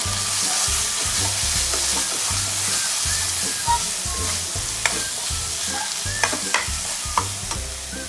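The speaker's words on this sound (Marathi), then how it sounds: "हे जे वाटण केलेलं आहे आपण ते ह्याच्यामध्ये टाकायचं आणि व्यवस्थित परतून घ्यायचं" Ground masala paste sautéing with onion in a pan for chicken kharda: a loud, continuous close sizzle with rhythmic stirring and scraping throughout, a few sharp clinks toward the end.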